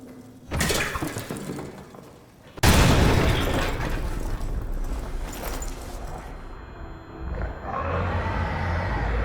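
A detonated charge in Amnesia: The Bunker sets off a sharp blast, then a second, louder explosion that rolls into a long, heavy rumble with debris-like crackle and a low roar lingering to the end.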